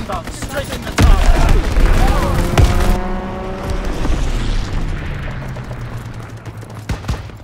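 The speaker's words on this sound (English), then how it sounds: "Enemy bomb incoming. Get to cover." A heavy bomb blast in Call of Duty WW2 multiplayer, one loud booming impact followed by a long rumbling decay, with scattered gunfire and clatter before and after it.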